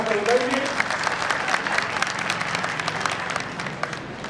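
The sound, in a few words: audience applause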